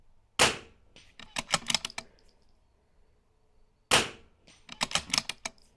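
Rimfire rifle shots at targets during an NRL22 match, two sharp cracks spaced a few seconds apart, each followed by a cluster of quick ticking clicks, fairly distant and with no talking.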